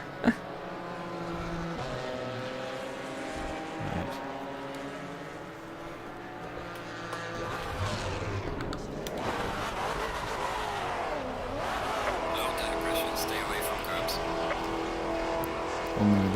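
A Porsche GT4 race car revs hard in the pit lane at Laguna Seca with the pit limiter off in a racing video game, engine note rising and sweeping loudly as someone talks over it.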